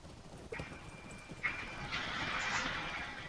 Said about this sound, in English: Laren, where did you get the Technicolor Dream Horse?